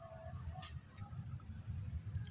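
A cricket chirps in thin, high, intermittent trills over a low, continuous background rumble outdoors.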